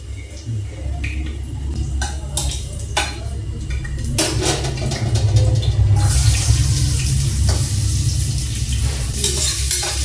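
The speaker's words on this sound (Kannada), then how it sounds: "ಸೊ ಈಗ ಒಗ್ಗರಣೆ ಕೊಡಬೇಕು" Bay leaf sizzles in two to three tablespoons of hot oil in a pressure cooker, with clinks and stirring up front, then a loud, steady frying hiss that fills the second half; a faint voice is heard briefly.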